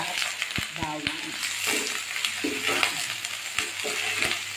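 Chicken liver frying in a pan with onion and garlic, a steady sizzle and crackle running throughout, close and moderately loud, with a few utensil clinks and brief stirring scrapes; a voice speaks intermittently over it.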